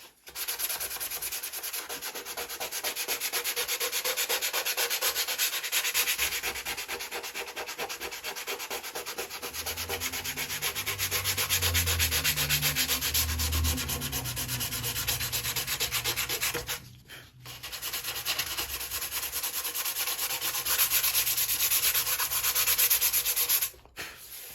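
Sandpaper rubs back and forth over the balsa fuselage of a Carl Goldberg Tiger 2 model airplane in steady, close strokes, with a brief pause before the rasping scrubbing resumes.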